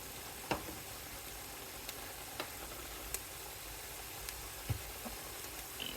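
Seasoned ground meat roasting in a pan for goulash gives a steady, soft sizzle, with a few faint clicks and taps of a utensil scattered across it and no talking.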